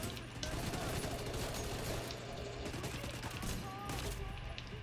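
Continuous gunfire from The Division 2 video game fills the mix as a dense, steady barrage of shots with a constant low hum beneath, loud and unbroken throughout.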